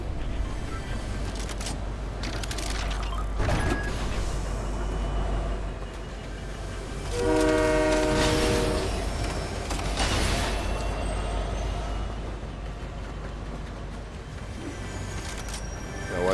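A train rolls past in the video game Fortnite with a continuous low mechanical rumble, metallic creaks and a squealing screech midway, heard close and steady.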